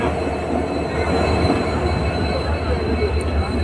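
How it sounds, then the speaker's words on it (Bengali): A fair ride train arriving at Gandhi Mela in Silchar gives a steady, close rumble of wheels on rails with a faint squeal, running unbroken throughout. "ট্রেন আই গেছে দেখতে পারছো।"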